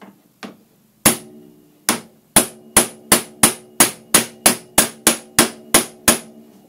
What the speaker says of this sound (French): je tape deux métaux donc